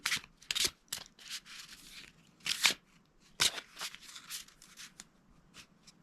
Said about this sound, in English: So what I'm going to do now is I'm going to shuffle the cards.